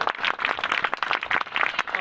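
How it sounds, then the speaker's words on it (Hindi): A church congregation claps hands together in a dense, irregular burst of applause that stays steady for two seconds, moderately loud and close, with no voices over it. "ऐसे खुदा के लिए एक बार ताली जरूर लगा दे"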